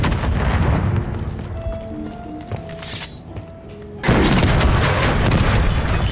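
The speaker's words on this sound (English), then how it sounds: "I just ate a rocket launcher shot somehow" A rocket launcher shot lands on the player in a Call of Duty match, a sudden loud booming blast that floods the mix with dense rumbling noise after a stretch of busier game audio.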